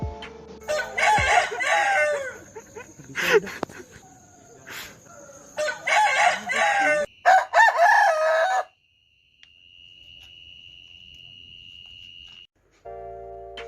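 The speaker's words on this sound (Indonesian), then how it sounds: "Selanjutnya ada video hasil suara ayam jantan." A rooster crows loudly several times up close, with clucking between calls, then a quiet stretch with a thin steady tone.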